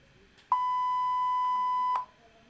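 A multimeter continuity beep during an earth continuity test on a lighting circuit: a single steady electronic tone lasting about one and a half seconds, clear against a quiet background.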